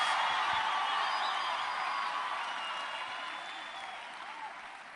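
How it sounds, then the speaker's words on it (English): Church congregation applauding, a dense wash of many hands clapping steadily throughout, loud at first and gradually easing in volume, with scattered cheers mixed in. "Clap your hands."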